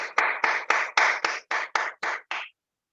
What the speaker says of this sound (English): Let us give a thunderous round of applause to our Toastmaster of the day, Toastmaster Ravish.